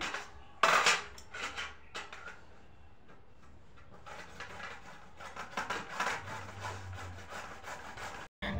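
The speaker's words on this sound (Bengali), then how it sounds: "আর এখন এরকম কুড়বো, গাজরগুলো কুড়ে নিচ্ছি।" Carrots are grated by hand for carrot halwa in a home kitchen, with rhythmic rough scraping strokes and occasional clinks of utensils and dishes, close and moderately loud.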